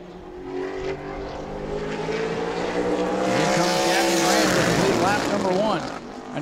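A super late model race car roars through a qualifying lap in a Sunbelt Series event at New Smyrna, its engine loud and steady with rising and falling pitch, while an announcer talks over it throughout.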